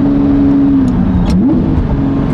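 A Lamborghini Murcielago engine hums loudly and close from inside the car, its steady drone dipping and rising again through a gear change.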